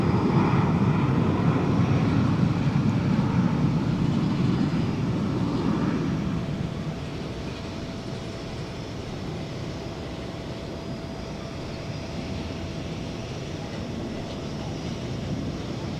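A 1999 Airbus A320 bound for Bakersfield gives a broad jet rumble at a Dallas Fort Worth airport, loud at first, then easing to a lower steady roar with a thin whine, heard with no voices.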